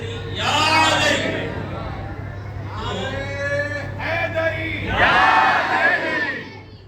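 A crowd loudly shouting the religious slogan Naara-e-Haideri Ya Ali, with bursts of massed voices rising and falling in waves over a steady low hum, the loudest surge coming near the end.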